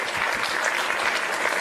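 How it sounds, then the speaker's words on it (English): An audience claps in sustained, dense applause at a motivational talk, loud and continuous for the whole moment with no voices on top. "Give him a round of applause,"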